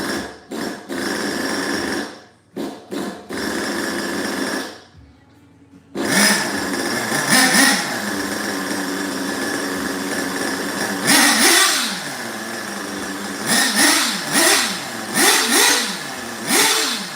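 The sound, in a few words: RC car engine revving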